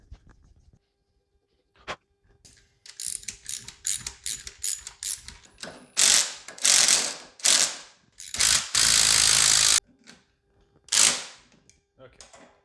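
A 3/8 tap cuts threads by hand feed on a lathe, giving a series of sharp ratcheting clicks and mechanical rattling bursts, close and fairly loud, with short pauses between them and no talking.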